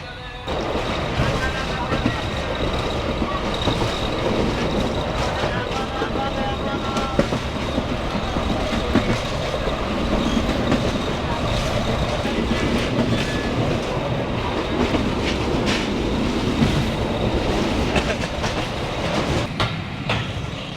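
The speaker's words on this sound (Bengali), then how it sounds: "ট্রেন খুবই আসতে যাচ্ছে তাই আমি ঝুলতেছি" A commuter express train rolls slowly along the rails, its steady rumble and rattling clatter filling the sound from nearby, with faint intermittent squeaks and no let-up throughout.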